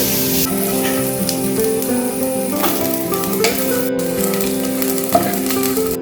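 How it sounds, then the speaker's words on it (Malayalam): A spoonful of ghee sizzles in a hot pan while chopped copra is readied for unniyappam, with a steady, fairly loud hiss and crackle and no talking. "1 സ്പൂൺ നെയ്യ് ഒഴിച്ചു."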